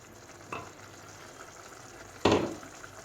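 Peas and tomato fry in a pan, a steady low sizzle with two short scraping stirs, the second louder, and no voices.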